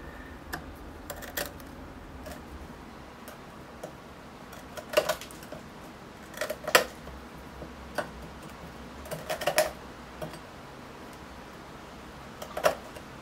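Dry crumbly bonsai soil and root mass of a Portulacaria afra forest planting breaking off at the edge, a series of small crisp cracks and crunches scattered throughout, close up and fairly quiet with no talking.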